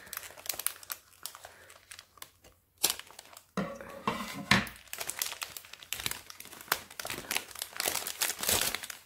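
Close, loud crinkling and rustling of packaging as it is handled and pulled open, with sharp crackles and tearing bursts throughout.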